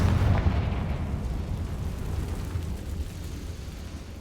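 A Confringo spell explodes in Hogwarts Legacy, a loud booming blast at the start that rolls into a long, fading rumble of debris and echo, with no voices.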